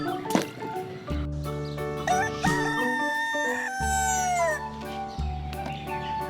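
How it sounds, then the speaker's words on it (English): A red and black farm rooster crows loudly and clearly, a full drawn-out crow standing alone at close range. "Farm animal rooster."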